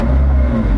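A McLaren Senna GTR's engine holds a brief, loud, low throttle blip, a deep steady drone lasting under a second, close and without talk.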